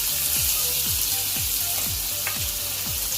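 Chopped onion fries in hot oil in a pan for chicken momos. A loud, continuous sizzle runs throughout, punctuated by regular low knocks of stirring about every half second.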